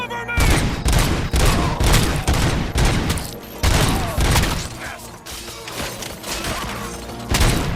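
Gunfire in Robocop: Rogue City, heard as dense, loud volleys of close shots and heavy thumps in rapid, irregular succession throughout.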